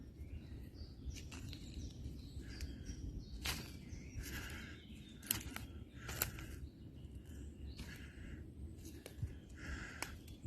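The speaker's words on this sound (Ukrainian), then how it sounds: "дав вам можливість трішки послухати спів наших лісових пташечок" Forest birds sing and chirp in short bursts of high calls, scattered and somewhat distant, over a soft low outdoor rumble.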